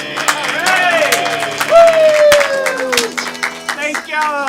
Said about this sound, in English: Give me some big round of applause for coming out tonight.